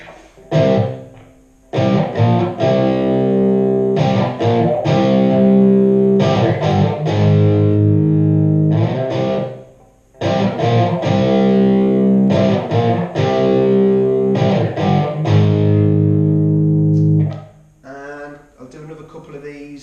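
Distorted electric guitar plays chunky power chords in a steady rhythm, ringing out loudly with brief pauses between phrases, no voices.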